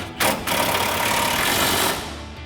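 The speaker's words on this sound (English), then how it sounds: "we'll grab our impact 21mm socket and 21mm wrench. Tighten this down" A pneumatic impact wrench with a 21mm socket runs a strut top bolt tight on a GMC Sierra 1500 front strut and spring assembly, giving a loud continuous mechanical whir with a short sharper burst near the start.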